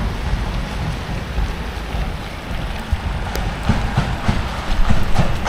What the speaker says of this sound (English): The mics in this thing might be blocking up the rain.